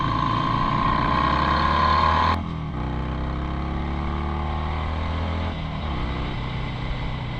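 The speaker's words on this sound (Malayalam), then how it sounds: "ബൈക്കിൻ്റെ റോ സൗണ്ട് കേട്ട് തുടങ്ങാം" A BMW GSA 1250 adventure motorcycle on a Ladakh ride route along Pangong Lake drones with a steady, loud engine note that dips sharply in pitch partway through, as if shifting or easing the throttle, then holds a lower hum.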